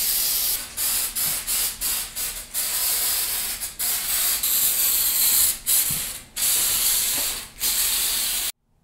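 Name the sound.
spraying stone coat texture spray paint on a stainless steel sink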